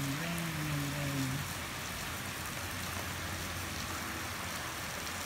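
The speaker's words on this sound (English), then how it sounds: "raining." Steady rain falling outdoors around midday, giving a constant hiss of drops on surfaces, with a faint tonal hum at the start and no talking.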